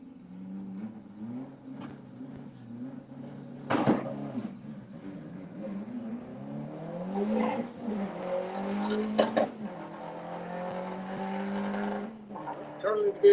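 A BMW drag racing car accelerates at Santa Pod Raceway during a Monday drag club meet, its engine note climbing and whining in the middle distance, with someone commentating over it.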